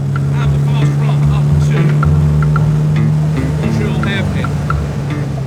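Loud, steady drone of an MGB race car running a standard 1972-era B-series engine, a sustained low hum with varying pitch, while a voice talks over it.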